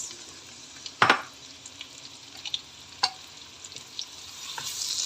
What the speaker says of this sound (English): we're going to fry the onions until it becomes translucent and slightly golden brown